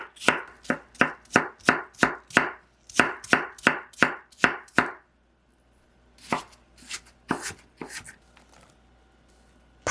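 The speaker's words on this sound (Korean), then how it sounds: "가늘게 채 썰어 주시고요" Half an apple being finely julienned with a knife on a cutting board, a quick regular run of crisp chopping taps, a pause, then a few scattered cuts.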